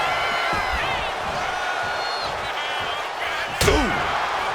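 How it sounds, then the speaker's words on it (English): In the WWE 2K26 wrestling game, a Samoan drop lands as one heavy slam thudding near the end, over a constant roaring arena crowd, with a commentator's voice faintly in the mix. "Crashing down with a Samoan drop"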